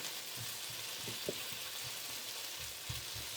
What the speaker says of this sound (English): you want to stir that regularly so the sausage is brown as well as the potatoes